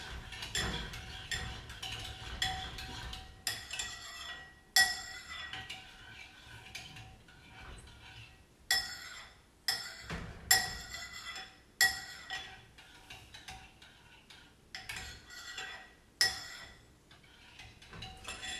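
A spoon stirs oatmeal with chia seeds in a bowl, giving irregular clinks and scrapes against the bowl with soft pauses between strokes, close and fairly quiet.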